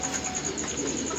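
Rooftop pigeons kept by hobby fanciers, giving soft, low cooing murmurs over a steady background hum, close and continuous for a brief moment.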